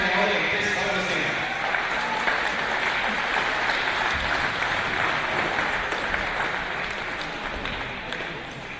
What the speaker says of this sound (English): Round of applause for our referees.